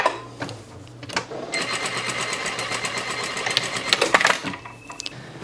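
A sewing machine runs a shirt collar seam in one steady, fast-stitching run of a few seconds, close and clear, framed by brief handling clicks before and after.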